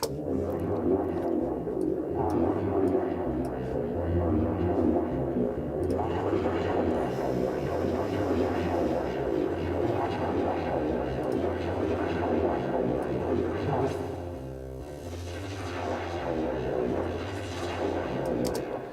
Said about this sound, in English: So that's Wavetable, pedal, and echo. Let's turn them all on at once.